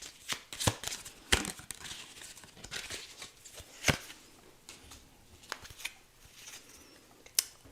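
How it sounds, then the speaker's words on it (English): Tarot cards being shuffled up close: quiet, irregular riffles, slaps and crinkles with brief pauses between bursts, no voices. "this is a little bit longer shuffling"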